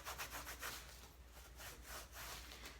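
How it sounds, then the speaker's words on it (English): Cloth rubbed over a painted rust finish, pulling through the paint at rust spots and edges, gives a steady, quiet scrubbing with repeated back-and-forth strokes, with no voices. "So I'm just going to keep rubbing different areas, pulling through the rust and some of the edging"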